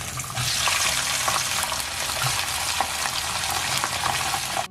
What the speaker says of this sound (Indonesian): Selanjutnya kita goreng ya dagingnya ini